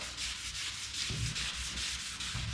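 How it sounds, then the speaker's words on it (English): Steady sanding strokes on a Z28 car fender, a close, continuous rasping hiss that pulses with each back-and-forth pass. "Get it all sanded out."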